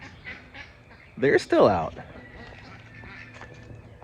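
Ducks quack outside at dusk on a homestead, a short burst of loud, close, raspy quacks in the middle, with a person talking quietly before and after.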